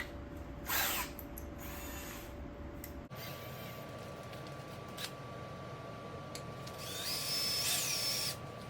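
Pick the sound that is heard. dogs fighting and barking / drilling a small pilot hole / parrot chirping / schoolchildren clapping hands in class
drilling a small pilot hole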